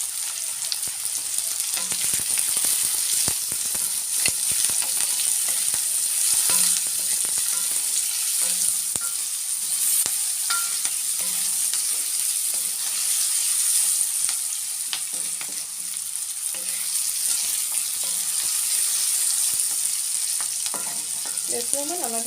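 Small potatoes seasoned with turmeric and salt fry in hot oil, giving a steady loud sizzle with occasional stirring clatter, alone with no talk.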